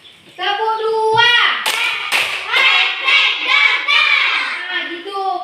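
Students in a classroom clap their hands together in a group warm-up, a few sharp claps cutting through loud, continuous children's voices.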